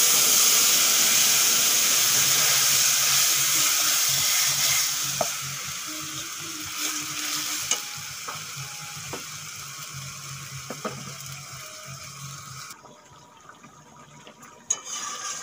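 Pineapple paste frying into a Bengali chutney, starting with a loud, steady sizzle that gradually quietens, with a few sharp spoon clinks against the pan as it is stirred.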